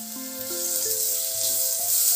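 Tomatoes fry in hot oil in a pan for dal, spiced with chilli powder over a dried red chilli tempering, giving a steady close sizzle with a few light clinks and taps of the spoon.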